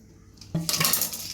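Chopped onions are scooped into a metal mixer grinder jar, heard as a quiet lead-in and then a sudden clatter of pieces and spoon against metal, followed by several lighter rattles.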